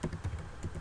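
Computer keyboard typed on while writing Selenium code, a short cluster of a few close keystrokes with no talk.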